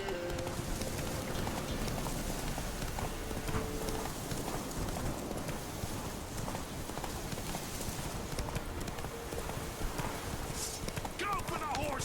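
Horse hooves clip-clopping at a steady trot in the Witcher 3 video game, a continuous rhythmic patter under game music and talking voices.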